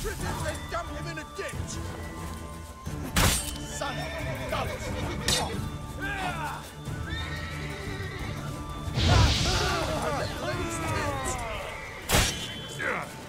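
A horse neighs and whinnies in The Witcher 3 video game, several loud whinnies over clip-clopping hooves and sharp thuds, while someone talks throughout.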